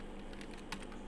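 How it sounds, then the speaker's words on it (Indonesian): Quiet keystrokes on a computer keyboard tap out a short word in Excel, a few soft clicks over a steady background hum, with no voices. "Kita ketik pajak"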